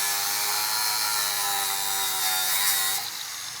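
An angle grinder whines loudly and steadily, a high-pitched abrasive screech that drops off near the end.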